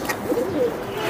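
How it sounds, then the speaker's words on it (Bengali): Domestic homing pigeons give a soft, short coo, a brief rolling call heard close by over faint background noise. "এই সব আমার ঘরের কবুতর"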